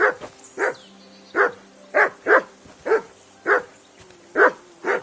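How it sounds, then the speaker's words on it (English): A mutt barks repeatedly in Kingdom Come Deliverance 2, a steady run of about ten sharp, close barks spaced roughly half a second apart over a faint background hum. "Whistle at that mutt of yours to stop barking"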